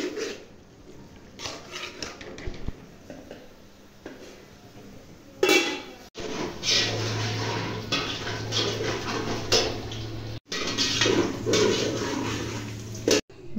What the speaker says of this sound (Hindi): पानी मेरा बॉयल हो गया है, मैक्रोनी वाला, मैं इसके अंदर मैक्रोनी डालने लगी हूँ